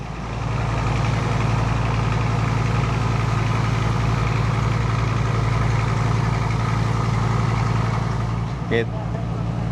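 A river boat's engine on the Mahakam drones at low pitch as the vessel pulls away, a loud, steady rumbling hum running throughout with a brief clank near the end, and a voice talking over it.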